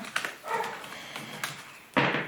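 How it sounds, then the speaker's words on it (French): A dog left alone in a house barks in a few short bursts, muffled and somewhat distant, the loudest one near the end. "Excusez-moi si vous entendez mon chien aboyer."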